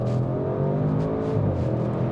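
Audi RS6 with 600 hp and 800 Nm of torque accelerating at full throttle, heard from inside the cabin as a loud, steady, deep engine roar and rumble with no speech.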